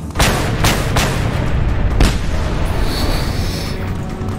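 Grenades burst in Just Cause 2: several loud, heavy booms land in quick succession, then a single deep blast, over a dense rumbling roar of battle.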